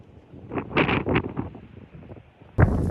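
Winter wind buffets a microphone near the snowy summit of Hallasan, Jeju, coming in rough gusts with crunching steps beneath, then a sudden loud blast near the end.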